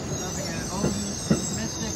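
An Amtrak Northeast Regional train departing track 4 at New Haven Union Station, steady faint rumble with two brief wheel squeals or clanks, quiet and distant.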